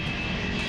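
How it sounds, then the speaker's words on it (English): Aircraft engines throttle up for takeoff from a US base in Vietnam, a loud steady roar that fills the brief moment without any talk. "Advancing throttles now."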